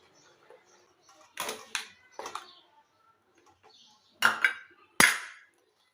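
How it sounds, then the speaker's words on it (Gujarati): Several short scraping, clattering strokes of a masher working a thick homemade soap paste of rice, alum and camphor in a bowl, in two bursts separated by a quiet pause. "મેશ મદદથી આપણે હલાવી દઈએ એટલે એકદમ સરસ મિક્સ થઈ જાય"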